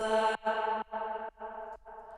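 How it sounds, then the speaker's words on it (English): A short sung vocal phrase from a deep house track chopped into five bursts, each trailing into a wash of reverb and fading slightly with every repeat. "a lot of reverb just on this little slice, on this little piece of the vocal"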